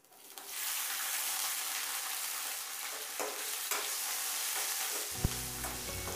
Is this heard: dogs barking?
no